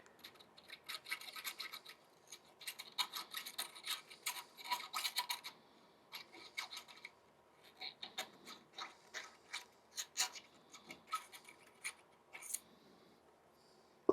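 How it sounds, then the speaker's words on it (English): A small 1/8 inch round file works a wooden pen, giving quick, close, rhythmic scraping strokes in short bursts with small gaps between them, and no voice over them. "I'm using a small 1/8 inch round file here."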